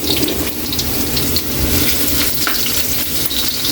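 Ginger frying in hot oil gives a dense, steady sizzle and crackle, close and continuous throughout.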